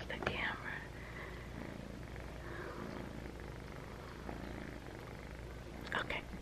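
A kitten purrs steadily and close by in a steady, soft drone, with faint voices and whispery sounds drifting over it.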